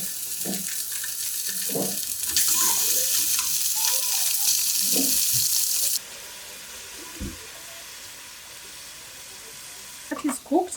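Fatty pork sizzles in a hot pan with a steady broadband hiss that swells loud for a few seconds, then drops to a quieter fry, with clinks and brief speech-like sounds scattered throughout.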